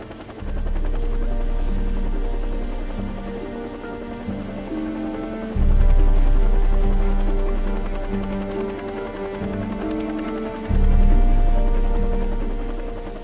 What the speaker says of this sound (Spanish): mantener el helicóptero inmóvil requiere algo más que un pulso firme